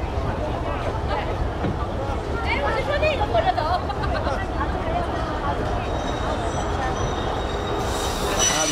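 Alishan cypress-wood train at a mountain station, its wheels squealing in a continuous metallic screech over a steady rumble of rolling cars, heard nearby with voices underneath.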